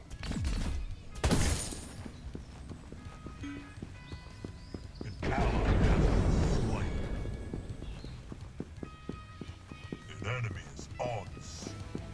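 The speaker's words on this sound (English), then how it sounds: "Allied towers destroyed." An allied tower collapses in a video game battle, with a sharp shattering crash, then a longer crumbling roar amid ongoing game clatter, while a person talks throughout.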